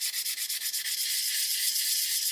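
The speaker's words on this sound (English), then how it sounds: "I'm just letting the sanding stick sit on the wing." A sanding stick rubs steadily across the wing of a 1/72 Airfix Lancaster B.III plastic model kit, a close, dry hiss with quick rhythmic strokes at first, then a continuous even scrape.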